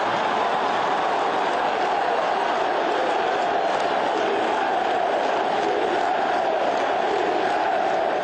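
Football stadium crowd chanting for Guilherme to take a penalty: a dense, steady roar of many voices that stays loud and even throughout, with no pauses.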